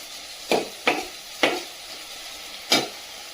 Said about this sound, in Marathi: गॅस आता जोरात करून घ्यायचा आणि छान कांदा आणि टोमॅटो व्यवस्थित परतून घ्यायचे